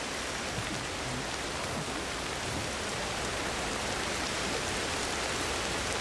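Steady rain falls in a video game, a dense, even hiss of drops across all surfaces, close and continuous with no other sound breaking through.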